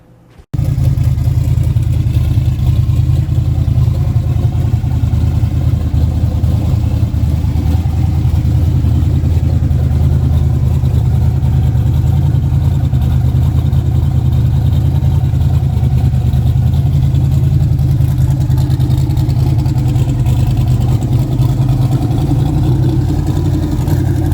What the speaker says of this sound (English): a little walk around video of the car idling the day that I had it out of the garage a few days ago